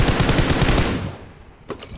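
Rapid automatic gunfire rattles in the mobile battle game BGMI, a loud burst of close shots that cuts off after about a second, followed by a fainter single shot, with no voices.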